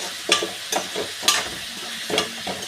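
Onions sauté in a pan for a chicken curry, with soft sizzling under a spoon stirring and scraping at irregular moments, quiet and close, with no talking.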